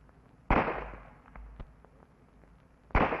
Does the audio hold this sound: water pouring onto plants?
no